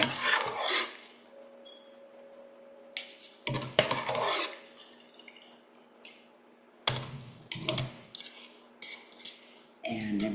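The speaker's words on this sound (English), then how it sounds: "I'm just gonna put my tomato sauce into a strainer" Clattering and scraping of a big slotted spoon against a metal strainer and pot while scooping tomato sauce, irregular metallic clinks and wet scrapes in uneven bursts with short pauses between.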